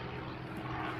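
Hawaiian Airlines Airbus A330 airliner inbound from Fukuoka, arriving on runway 8 left at Honolulu; a steady, broad engine roar held at constant level throughout, with no voices.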